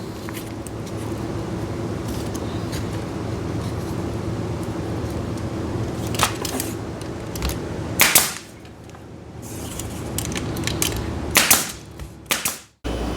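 A brad nailer drives brad nails into wood during a woodworking build, giving several sharp, close snaps in an irregular sequence over a steady low background hum.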